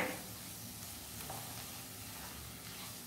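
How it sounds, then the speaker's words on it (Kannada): An egg and rice mixture fries in a pan for chicken fried rice, giving a steady, quiet sizzle with light stirring underneath. "ಎಲ್ಲವನ್ನು ಮಿಕ್ಸ್ ಮಾಡಿ ಫ್ರೈ ಮಾಡಿಕೊಳ್ಬೇಕು."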